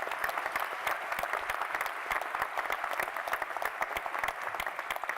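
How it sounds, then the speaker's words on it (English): An audience at a new lawyers induction ceremony applauds a law student pro bono award winner, steady dense clapping at moderate distance, continuous and fairly soft. "Please join me in applauding McKenna McGraw, winner of the Texas Access to Justice Commission's Law Student Pro Bono Award."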